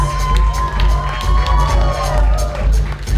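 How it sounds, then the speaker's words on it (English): A crowd cheers and whoops at an all-American runway ball, loud continuous shouting and hollering close by with pulsing bass music underneath. "I'll give them a round of applause"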